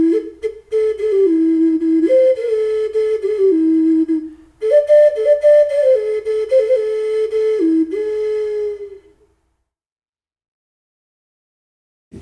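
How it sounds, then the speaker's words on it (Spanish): A handmade ocarina plays a slow, breathy solo melody of sustained whistle-like notes that step up and down. It plays alone with no talk and stops after about nine seconds. "hay bastante gente que hace estos instrumentos, pero no tantos las tocan. Es más como un souvenir las ocarinas."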